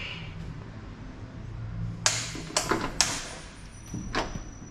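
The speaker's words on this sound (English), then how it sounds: "And the door is open." A key rattles and turns in the lock of an apartment door, a few sharp metallic clicks and clunks spaced out, followed by the door swinging open, close and fairly clear.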